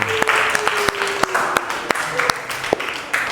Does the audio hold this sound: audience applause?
yes